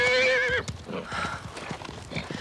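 A horse lets out a sharp, quavering whinny, then its hooves clip-clop in an uneven walking rhythm close by.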